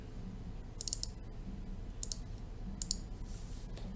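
Computer mouse clicks sound while opening a clip file in Blender editing software: sharp, quiet clicks come in small clustered pairs and bursts, spaced across a few seconds against a faint background hum.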